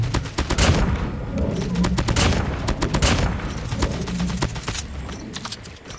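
Gunfire from a long-range, high-damage, low fire rate gun in a video game: a fast run of sharp shots, loud and close, keeps going for several seconds with brief gaps, and no talk over it.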